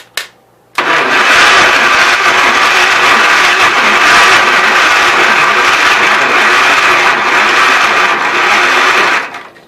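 A Gravely 810 with snow blower, flooded with too much fuel, cranks after a brief click and then roars into a loud, steady close-up run for several seconds before winding down.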